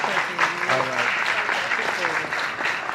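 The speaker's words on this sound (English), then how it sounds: "Let's give him a big round of applause." Audience at the Baker City awards ceremony claps in steady, dense applause lasting throughout, moderately loud in the hall, with a voice talking over the clapping.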